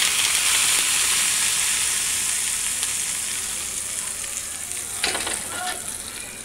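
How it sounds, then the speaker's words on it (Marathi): Hot tempering poured from a kadhai into coconut chutney gives a loud, steady sizzle that fades slowly, with a fresh burst of crackle near the end; no one speaks. "कढई आता ना अशी घ्यायची आणि ह्या चटणीमध्ये टाकायची"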